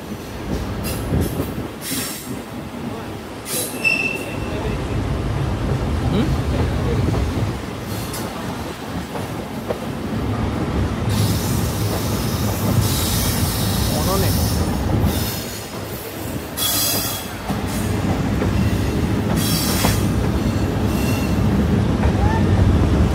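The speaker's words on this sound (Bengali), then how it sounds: "আমাদের ট্রেনটি এখনই ভায়াডাক্ট 3-এ ঢুকবে।" A commuter train runs from the main line onto a viaduct near Mawa, sustaining a loud rolling rumble with intermittent metallic squeals and rattles, dipping briefly before building again.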